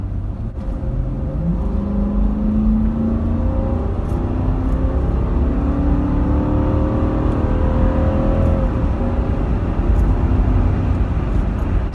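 A Toyota Land Cruiser engine drones steadily, its pitch climbing slowly as it revs, with a continuous low rumble throughout and no talking.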